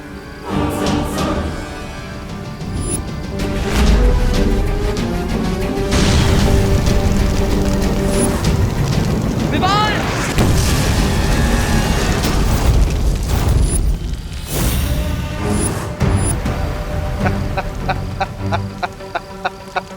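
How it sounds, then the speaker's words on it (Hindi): Cannon shells firing in a fantasy battle scene from a Hindi children's TV series, with a run of heavy booms and whooshing effects layered over dramatic music. "इस गोले से बचो, इस तोप का वार बहुत खतरनाक है।"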